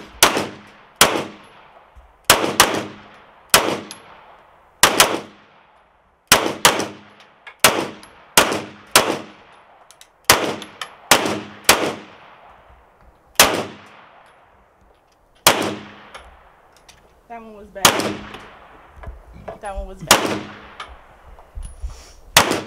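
Handgun shots at a shooting range, a Glock 19 among them, crack out in sharp, loud bursts, single and in quick doubles and strings, with metallic ringing and echo between volleys.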